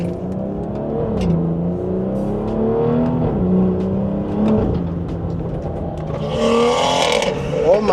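A BMW 340i with a B58 engine revs while driving, its engine tone rising and falling in sweeps, then crackling exhaust burbles near the end, all close and loud.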